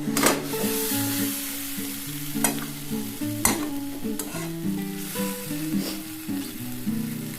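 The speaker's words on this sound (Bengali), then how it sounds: "আলুগুলো দিয়ে একটু ভালো করে কষিয়ে নেব।" Potatoes and onions stir-fried together in a pan for a Bengali muri ghonto, with a steady sizzle and scraping spatula strokes under prominent background music.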